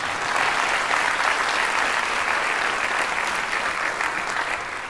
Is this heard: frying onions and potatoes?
no